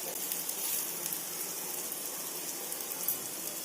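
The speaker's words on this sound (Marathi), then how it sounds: "इकडे मी पॅन ठेवलेला आहे त्यात तेल टाकून घेतले आहे एक एक करून असे उलटून घ्यायचे" Paneer tikka pieces fry in oil in a pan, producing a steady, fairly quiet hiss and sizzle with a few faint pops and no speech.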